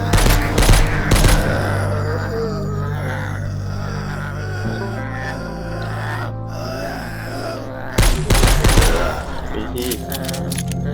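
Bursts of gunfire in the survival shooter She Will Shoot, a loud rapid volley at the start and another near the end, with game sounds and a low droning background in between.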